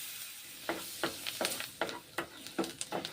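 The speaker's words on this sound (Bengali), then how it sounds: "বাটার দিয়ে রসুনগুলোকে প্রথমে ভেজে নিচ্ছি।" Garlic fries in butter in a pan, giving a soft steady sizzle broken by repeated scraping stir strokes at an irregular rhythm, close and moderately quiet with no one talking.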